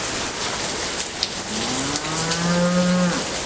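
Cows moo in a long, low drawn-out call rising to a steady tone, heard close over a constant hiss of rain on the ground; they look ready for milking.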